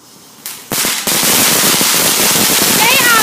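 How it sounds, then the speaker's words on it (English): Bonfire night fireworks and firecrackers burst into a dense, loud stream of crackling pops after a few sharp opening bangs, continuous and close, with people talking underneath. "George, fireworks over there."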